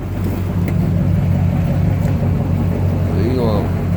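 Low, steady rumble of a 1974 Chevy K10 pickup with 61,000 original miles idling after a cold start, close and loud, with a faint rising whine near the end and someone talking over it.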